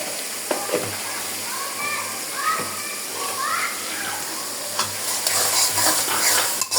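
Garlic and onions frying in a pan for a chicken curry, a steady sizzle with occasional stirring clatter, with children's voices and chatter in the background.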